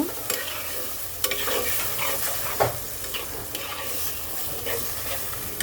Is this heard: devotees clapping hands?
no